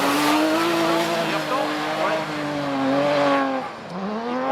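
A Mini race car runs in Trophée Andros ice racing practice in Andorra, its engine note rising and falling steadily throughout, loud and fairly close, with no clear speech.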